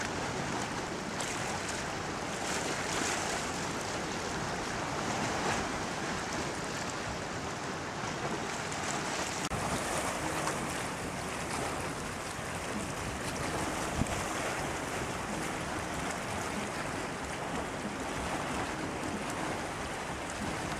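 Waves of the Red Sea wash against a rocky shore in a bay at Sharm el Sheikh, Egypt, a steady, full surf roar mixed with wind buffeting the microphone throughout.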